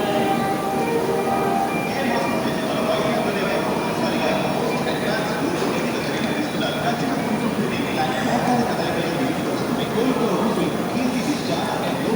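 Continuous rumbling train noise with rail clatter at a station, steady and fairly loud, with people talking faintly in the background throughout.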